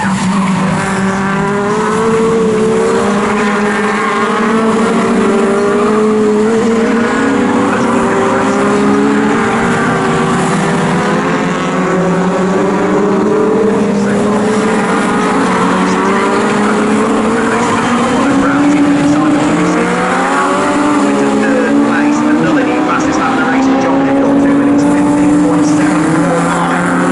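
Legends race cars battle through corners at Snetterton circuit, engines buzzing loudly and continuously with rising and falling pitch as they jostle for position, while a commentator talks over the racing.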